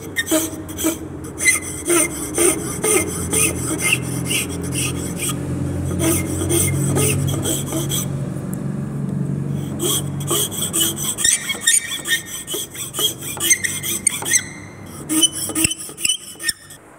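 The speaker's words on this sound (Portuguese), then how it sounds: "Já cortamos os dentes, estamos dando acabamento com a lima internamente." A hand file rasps between the cut teeth of a handmade wooden fork, smoothing the inner edges in steady back-and-forth strokes, close and continuous, with a short pause midway.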